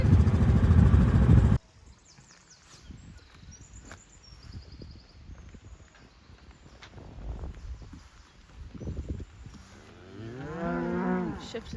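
Spring cows and calves mooing on a farm, a few distinct calls rising near the end over quiet outdoor background after a brief loud burst at the start.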